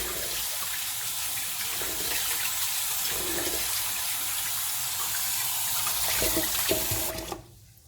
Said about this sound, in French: Je vide l'eau et je recommence cette étape jusqu'à que l'eau devienne bien claire.